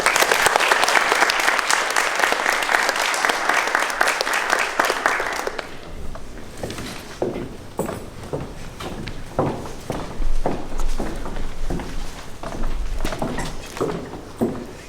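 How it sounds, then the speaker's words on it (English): Audience at a school merit awards assembly gives a loud, dense burst of applause that cuts off after about five seconds, followed by scattered footsteps and the shuffle of people moving around the hall. "Big round of applause for William."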